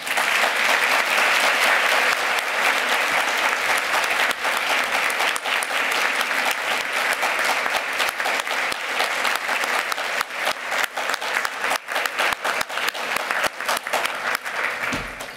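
Sustained applause from a conference audience honoring two inductees at an induction ceremony, with a dense, even wash of many hands clapping that stays strong for the whole stretch.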